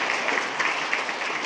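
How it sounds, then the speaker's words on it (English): Audience applause at a school district board meeting honoring employees of the month, a steady dense round of clapping held at an even level throughout, with no voices over it. "How about one more giant round of applause for all of Employees of the Month?"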